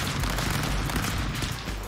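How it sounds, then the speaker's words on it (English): Rapid bursts of powerful gunfire in the Stick Fight video game, loud and close, with dense overlapping shots and no talking. "This one's a powerful gun."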